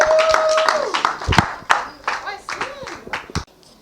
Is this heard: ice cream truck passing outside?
no